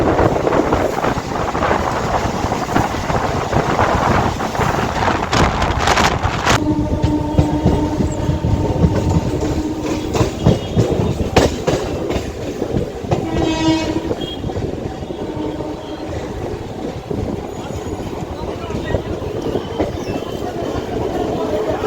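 A Howrah–Tarakeswar local train rolls toward Serampore with a loud, continuous rumble and rattling carriages, wind buffeting the microphone, and a horn-like tone sounding partway through.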